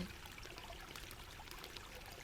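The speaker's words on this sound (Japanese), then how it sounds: "崖の下の清流からは夕べの雨で増水した水の音が立ち上ってくる。" A clear mountain stream below a cliff, swollen by overnight rain, rushes and trickles in a faint, steady, distant wash with no voices.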